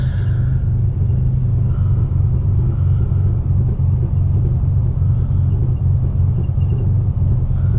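A car driving through city streets, heard from inside as a steady, loud low engine and road rumble with faint higher whines and brief clicks over the top.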